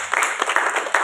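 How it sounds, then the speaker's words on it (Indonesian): Church congregation applauding during a Sunday service in Depok, a dense, steady burst of many hands clapping in a reverberant hall. "Boleh berikan tepuk tangan untuk Bapak."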